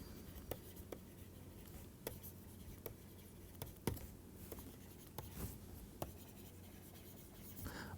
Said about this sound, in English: So let us go ahead and write these down to cement our concepts.